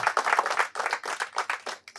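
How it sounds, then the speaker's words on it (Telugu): A small group claps together in uneven bursts, the applause rising and falling for a couple of seconds before fading out. "మీకు గట్టిగా చప్పట్లతో అభినందనలు తెలియజేయండి అమ్మా"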